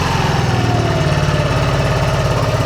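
Yamaha NMAX Techmax scooter with a UMA back-pressure muffler held at about 3,000 RPM, a steady close, loud engine drone with a pulsing exhaust throb and no talk.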